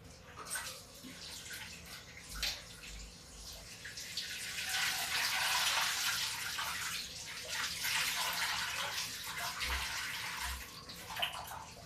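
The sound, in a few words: washing bitter gourd under running water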